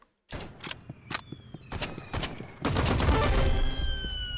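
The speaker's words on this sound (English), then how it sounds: "He is actively shooting at you, and you do not have a loaded rifle." Gunfire in the Roblox shooter Rivals: a run of sharp single shots, then a dense sustained burst of rapid fire that fills the second half, loud and close with no talk over it.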